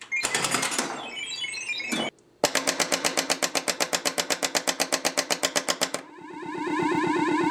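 A Williams pinball machine on a RottenDog MPU326 board fires up: a burst of chimes and clatter, a short pause, then a fast even train of about thirty sharp mechanical clacks, ending in a sustained tonal electronic hum.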